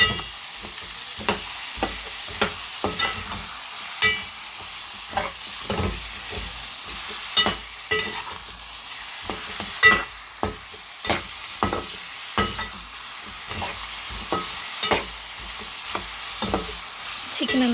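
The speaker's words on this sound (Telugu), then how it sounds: "ఇప్పుడు ఈ చికెన్ని ఇందులో వేసుకొని కలుపుకుందాం" Country chicken (natukodi) sizzling steadily in a pan for a village-style curry, with a continuous frying hiss broken by regular scraping stirs of the spoon, close and fairly quiet.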